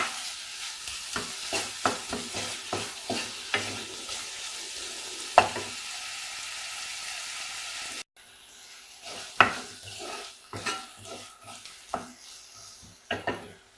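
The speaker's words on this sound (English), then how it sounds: "Keep stirring." Pointed gourd and potatoes sizzle in a pan while a utensil scrapes and knocks against it in a repeated stirring rhythm, sharp clacks over a steady fry.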